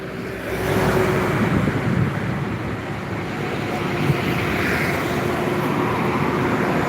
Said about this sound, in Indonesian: Baru banyak truk yang melintas